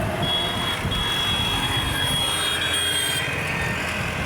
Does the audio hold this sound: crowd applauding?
no